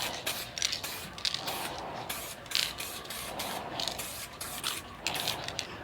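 A spray can hisses in a steady series of short bursts, close by, applying base coat to a painted wheel, with brief pauses between passes.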